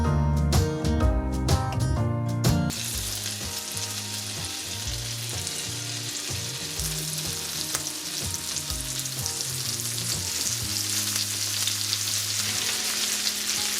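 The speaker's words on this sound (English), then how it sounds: "I'm adding some butter and oil to the cast iron pan on medium-high heat, and once it's hot, I'll add the shrimp in." Shrimp fry in butter and oil in a hot cast iron pan, giving a dense, steady sizzle. Loud music plays at the start, and a softer tune carries on underneath.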